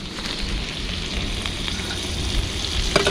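Dry pasta tipped into a pot of boiling water over a campfire while making mac and cheese, giving a steady close hiss and bubbling roar with faint rattles near the end.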